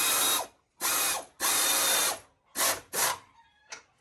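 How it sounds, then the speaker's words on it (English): A ratchet with a 21mm socket tightens the bumper bolts on a Ford F150, giving loud, close bursts of fast pawl clicking separated by short pauses, with no talk. "we'll be using this ratchet here with a 21mm. 21mm socket to tighten things down"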